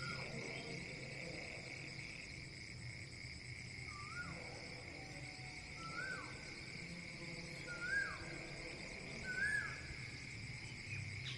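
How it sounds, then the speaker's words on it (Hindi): Frogs calling at night after rain during the monsoon, a few faint, widely spaced croaks rising over a steady background drone of insects, distant and quiet. "मेंढक की आवाज़ आपको आ रही है"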